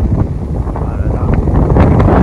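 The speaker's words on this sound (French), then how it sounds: "Alors, je suis désolée, il y a du vent." Wind buffets the microphone outdoors in rumbling low gusts, loud and uneven throughout, with faint bits of voice underneath.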